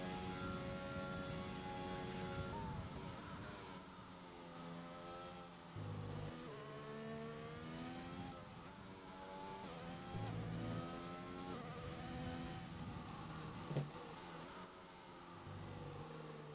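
A race car engine on an onboard lap in a racing video game at a Belgium GP event, revving up through the gears in repeated rising whines with brief drops at each shift, loud and close.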